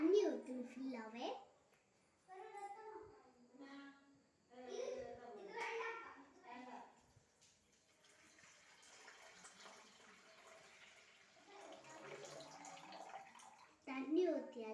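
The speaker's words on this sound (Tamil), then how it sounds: "இனி தண்ணி ஊற்றணும் ஃபுல்லாகவே" Water splashes and runs steadily into a pot for several seconds after some talking, a continuous pouring rush at moderate volume, with a voice briefly returning at the end, while making coriander leaf soup.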